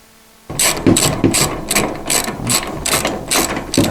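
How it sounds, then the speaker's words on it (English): Ratchet wrench with a 17mm socket tightening a bolt while fitting doors on a Honda Pioneer 1000, loud close clicking in about nine rhythmic bursts of back-and-forth strokes after a brief quiet start. "We'll swap over to our 17mm socket. Our wrench, and we'll tighten this up."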